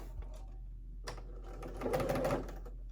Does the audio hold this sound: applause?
no